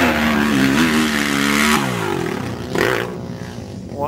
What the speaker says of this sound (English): Wide open on the big old Honda 450.